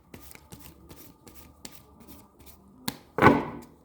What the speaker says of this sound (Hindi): अभी मैं पहले शफल कर लूँ।